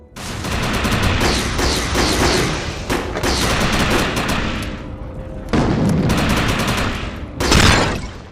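Loud, rapid gunfire from an overcharged weapon in the shooter game Defiance, with sustained bursts of shots broken by short pauses and no talking.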